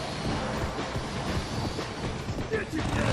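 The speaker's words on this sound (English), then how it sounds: "Here comes the train, guys." A train roars past in the video game MadWorld near a train station, a loud, dense rumble with rattling clatter sustained throughout, over game noise.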